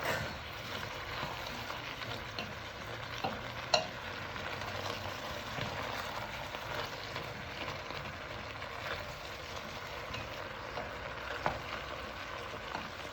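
Garlic frying gently in a pan, a soft, continuous low sizzle with occasional small ticks and pops, quiet and steady throughout without speech.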